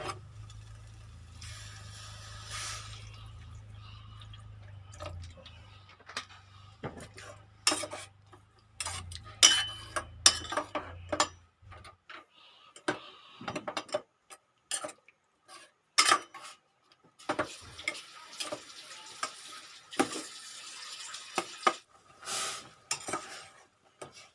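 Catfish stir-fried with plain water in a pan: a steady low simmer at first, then repeated clinks and scrapes of a utensil against the pan, irregular and close, with no talking.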